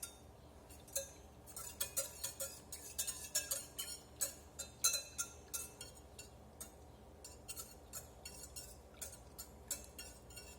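Pizza dough stirred by hand in a bowl, a steady run of light clinking and scraping taps, some sharper, fairly close and quiet, with no talking.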